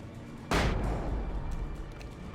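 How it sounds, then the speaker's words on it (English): A flashbang grenade in the video game Alan Wake goes off with a single sudden loud bang, followed by a rumbling decaying tail. "Flashbang!"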